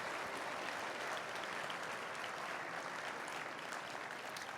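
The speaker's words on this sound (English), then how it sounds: "give them a round of applause for just their incredible instruction" An audience claps steadily for music teachers at a town music festival, a dense, continuous wash of applause that holds at an even level throughout without any voices.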